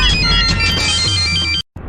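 A telephone rings loudly and continuously with a bright, electronic tone, then cuts off abruptly into a brief silence before starting up again.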